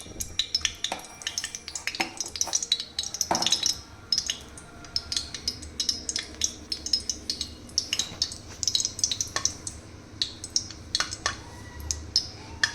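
Mustard seeds sputter in hot oil in a pan for a Karnataka-style vangi bath, irregular crackling pops over a low frying hiss, mixed with occasional utensil clinks, close and steady.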